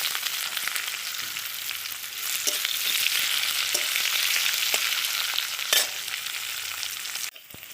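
Onions fry in hot oil with dried chilli, five-spice and bay leaves, making a steady close sizzle broken by occasional scrapes of stirring and a few soft clicks.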